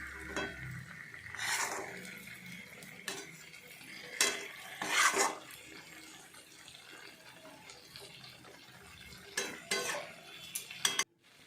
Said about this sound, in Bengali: আস্তে আস্তে করে রিটা মাছগুলো তার মধ্যে দিয়ে দিলাম তারপরে ভালো করে নাড়াচাড়া করলাম